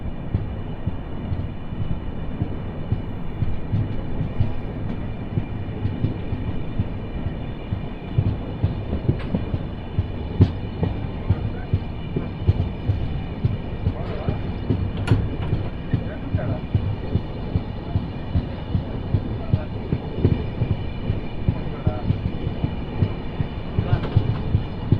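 A passenger train pulls out of Peruru station and runs on the rails, a steady heavy rumble with regular clicking of wheels over rail joints, close and continuous throughout.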